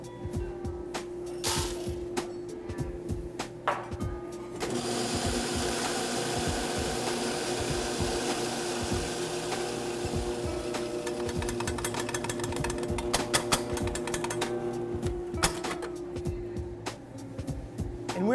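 An electric grinder works through 32 grams of freshly roasted coffee beans at a drip-filter grind. A quiet lead-in gives way to a sustained, buzzing motor whine with rattling beans that runs on steadily to the end.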